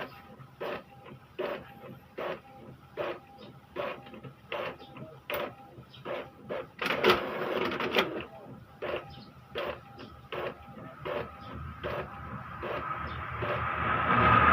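An Epson L3210 printer with a newly installed pickup roller set prints copies: steady rhythmic mechanical feed strokes close by, with a louder whirring burst partway through and rising motor noise at the end.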